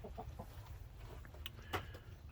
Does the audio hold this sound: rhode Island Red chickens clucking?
yes